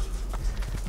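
Horse hooves clip-clop briefly in Assassin's Creed II, a few quick hoof strikes at riding pace, fairly soft and heard on their own.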